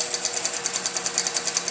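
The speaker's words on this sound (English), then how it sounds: "So now all I do is press go on the QBOT," A QBOT robotic quilting machine starts stitching, its needle hammering in a fast, even rhythm of about ten strokes per second, loud and close with a bright mechanical clatter and no voices.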